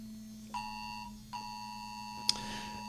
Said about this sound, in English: my phone is giving me the hurricane warning